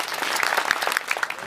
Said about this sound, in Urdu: تالیوں میں